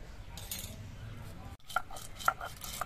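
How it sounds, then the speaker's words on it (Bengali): Black mustard seeds washed in a bowl, with soft clinks and light scraping against the bowl's side, a few sharper taps in the second half, heard up close and fairly quiet. "কালো সর্ষেটা আমি ধুয়ে নেব, তার জন্য বাটির মধ্যে নিয়ে আগে ধুয়ে নিচ্ছি।"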